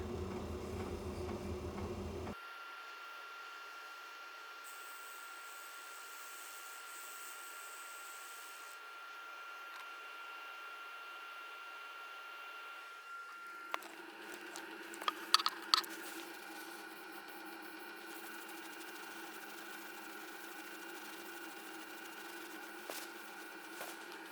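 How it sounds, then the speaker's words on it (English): An electric inertia sander hums steadily on a wooden bowl after a louder opening burst, with a few sharp taps and clicks partway through and no talking. "I think I might just go over that with the inertia sander again"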